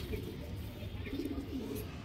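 A racing pigeon in a loft gives soft, low coos, faint and close, over a steady background hum.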